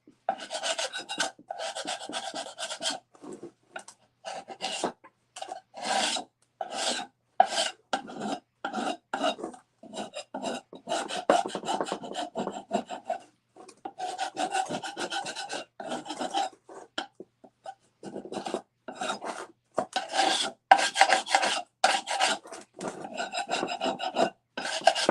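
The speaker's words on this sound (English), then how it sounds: "we're going to scrape" A scraper rasps old paint off a repurposed wooden piece in repeated, close dry strokes, bursts of scraping separated by short pauses, steady and fairly loud with no voices.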